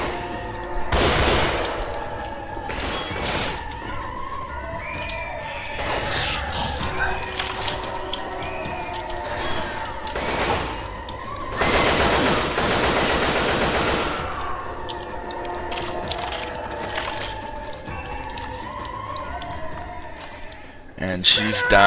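Video game gunfire in Left 4 Dead 2, with dense machine-gun bursts and single shots recurring throughout under constant game noise, while a player talks over the action.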